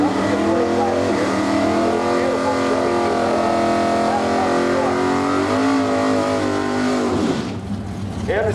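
A 1966 Ford Fairlane drag car with a big-block 428 Cobra Jet engine idles loudly at the start line of an NHRA divisional drag race, a steady rumble under an announcer's talk that quiets near the end.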